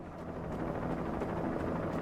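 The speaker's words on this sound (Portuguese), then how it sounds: "Ih, helicóptero. Helicóptero." A helicopter in the Alan Wake Remastered video game drones with a low, rhythmic rotor chop at moderate loudness, continuous and unaccompanied by voices.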